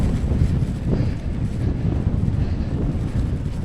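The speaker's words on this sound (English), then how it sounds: "the wind is still very strong" Strong, steady wind buffets the microphone in gusty low rumbles, with no voices, during a cycling trip through the UAE.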